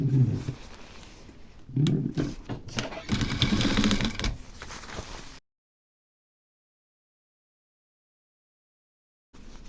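Sewing machine runs in short and longer bursts while stitching a binding strip over the cut edge of quilted reversible jacket fabric, close and fairly loud, then silence and a brief final burst.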